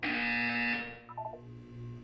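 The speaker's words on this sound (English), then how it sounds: "When you hear the buzzer, look down at the floor." A loud, harsh electronic buzzer from the video game Portal 2 blares for under a second, followed by a few quick beeps and a lower sustained tone.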